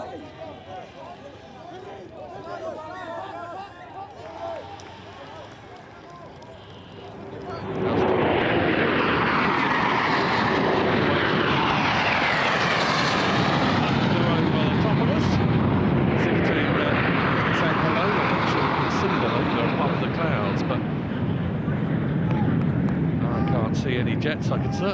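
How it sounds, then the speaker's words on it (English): Jet aircraft from an RAF training flight path roar overhead at a rugby tens ground, swelling loudly after a quieter opening and holding a broad, sweeping rumble as they pass, with crowd and commentary noise beneath. "Jets, I can certainly hear them. It's of course a flight path for the RAF and all of their training."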